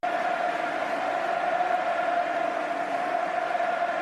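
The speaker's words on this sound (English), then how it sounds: "This crowd absolutely singing their love for Lionel Messi" A large stadium crowd at a Barcelona versus Atletico football match sings a steady, sustained chant for Lionel Messi, a continuous distant wall of voices with no breaks.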